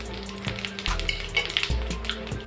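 Whole spices, cinnamon, black cardamom, black peppercorns, cloves, green cardamom and cumin, hitting hot oil for kaddu kofta, sizzling steadily and loud, with clattering stirs and bursts as more go in, no talk.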